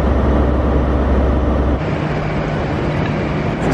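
A loud, steady rumble of a train at Penzance railway station, with low droning noise, shifting in tone partway through, close by and without speech.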